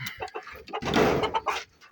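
Chickens cluck and squawk nearby in quick, overlapping bursts, one louder drawn-out cackle in the middle.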